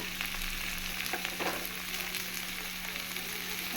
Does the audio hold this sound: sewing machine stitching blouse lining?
no